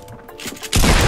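A single loud, close shotgun blast in a Fortnite match, erupting sharply after a brief quieter moment and filling the rest of the instant.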